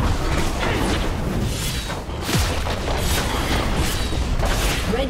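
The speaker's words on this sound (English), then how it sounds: "Red team's turret has been destroyed." A turret is destroyed in League of Legends, with a deep booming blast and crackling bursts over dense, continuous game noise.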